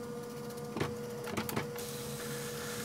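An old dot matrix printer, switched on with a stack of paper loaded, whirs and clicks with brief mechanical bursts of feeding motion over a steady electrical hum, the feed mechanism sticking a little.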